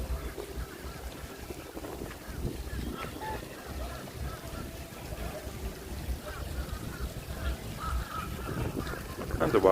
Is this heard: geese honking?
yes